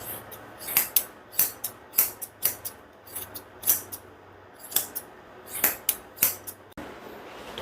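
Grooming scissors snip through a Goldendoodle's matted hair in quick, sharp, close-up cuts, some in pairs and some spaced apart, over a quiet background.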